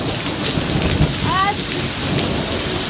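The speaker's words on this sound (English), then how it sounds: "Thunder." Thunder rolls through a heavy thunderstorm in the Canadian Rockies, a deep rumble over steady loud rain, with a brief high squeak partway through.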